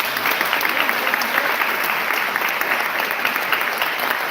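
An audience at a Pennsylvania candidate forum claps in a steady, dense, loud burst of applause that holds evenly throughout without pause.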